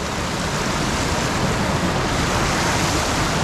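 Cucumber Rapids on the river at Ohiopyle, a steady, loud, broadband rush of whitewater that holds without a break, close by and with no voices.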